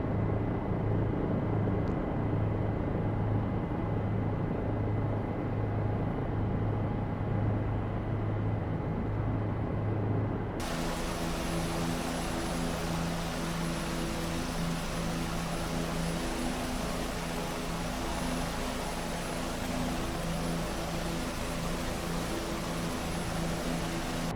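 A propeller aircraft flies low along a landing strip at a fisheries camp on the Machmell River delta, its engine drone steady and loud from inside the cabin throughout, with a shift in tone partway through and no talking.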